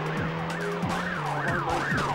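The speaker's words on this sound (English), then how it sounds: "Hello, police car." Police car siren in The Getaway video game: a loud wailing siren sweeping up and down repeatedly over a steady engine drone, with no voices.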